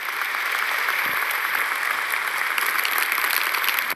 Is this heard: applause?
yes